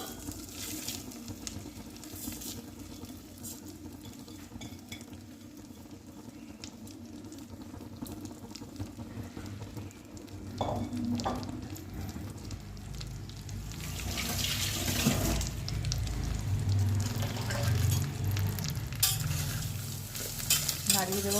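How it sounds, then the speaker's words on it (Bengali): Rice being stirred as it fries in a pan for a Bengali meal, with a continuous close sizzle and scraping that grows louder and busier toward the end, no speech. "এটা জাস্ট একটু নাড়াচাড়া করব। হয়ে গেছে এটা। এবারে আমি চালটা দিয়ে দেব।"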